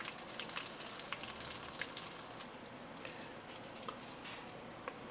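Chickpea (channa) nuggets deep-fry in oil with a quiet, even crackling sizzle and occasional faint pops throughout, with no talking.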